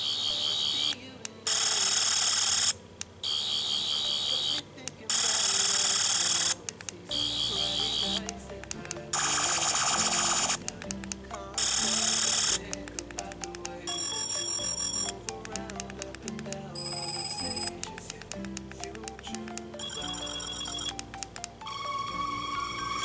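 A toy sonic screwdriver cycles through its sound effects, loud electronic whirs, buzzes and beeping alarm-like tones in alternating bursts, followed by steady high warbling pulses, close and with no talking.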